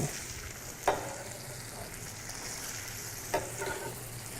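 Garlic and onions sizzling in a hot pan, a steady moderate frying hiss with two brief louder bursts as they hit the oil and get moved.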